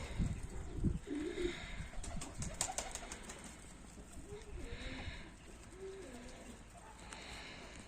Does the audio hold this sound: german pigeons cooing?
yes